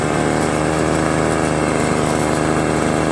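A Troy-Bilt TB320BV gas leaf blower and mulch vacuum runs loud and close, its small two-stroke engine holding a continuous buzzing whine with no speech.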